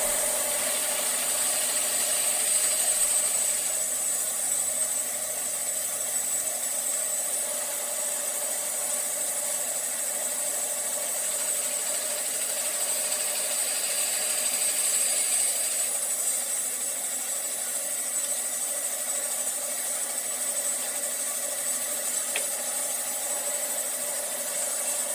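A bandsaw cuts wooden pen blanks with a steady, loud, continuous whine that holds for the whole stretch, with no voices.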